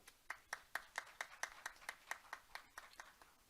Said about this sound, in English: please welcome them with a big round of applause